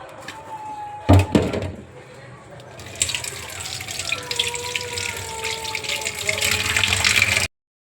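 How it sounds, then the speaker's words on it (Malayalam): Water is poured over squid roe with salt in a kitchen, a steady splashing rush that begins after a couple of knocks and runs loud and even until it cuts off abruptly. "അതിലേക്ക് നമുക്ക് കുറച്ച് വെള്ളം കൂടി ഒഴിക്കാം"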